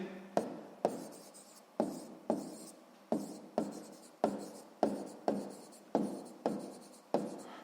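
A pen writes on paper during a sixth-grade maths exercise, about a dozen short scratchy strokes in a steady, evenly spaced rhythm, close and clear, with no talking.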